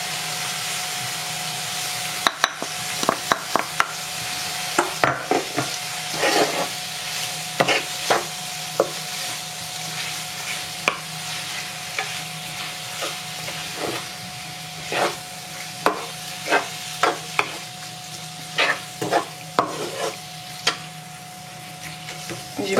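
Chicken and mushroom filling with added spices stirred in a pan, giving repeated soft scraping and clacking strokes over a steady low sizzle, close by and moderately loud throughout.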